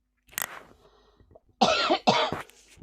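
A person coughs several times, a short cough followed by two loud, harsh bursts close to the mic in an otherwise quiet room.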